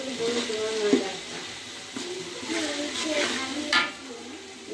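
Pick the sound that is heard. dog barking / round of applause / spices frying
spices frying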